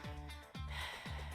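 A voice imitating heavy breathing, three slow, loud, rasping breaths at close range, each a drawn-out huff about half a second long.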